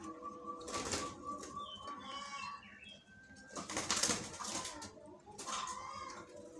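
A zebra dove (perkutut) being moved by hand flaps its wings in three brisk fluttering bursts, close and fairly faint, with small cage or handling noises between and no talking.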